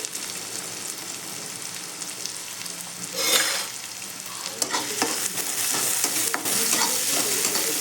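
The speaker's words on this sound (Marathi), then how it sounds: "सगळ्या भाज्या मिक्स करून घेऊ" A spoon stirs onion, capsicum and carrot sizzling in a pan for homemade pasta, with a soft frying hiss and irregular clinks and scrapes growing louder.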